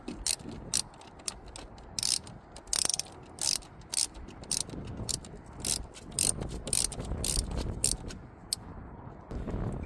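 A ratchet tightens the throttle body bolts on a Ford 3.5L V6 twin-turbo EcoBoost engine, giving rapid bursts of close, sharp clicking that stop and start.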